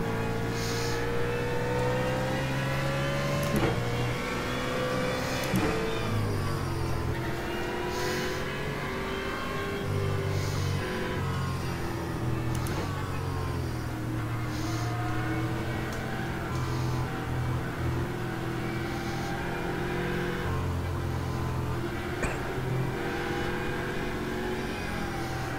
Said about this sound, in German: Wie, du musst deinen Motor starten?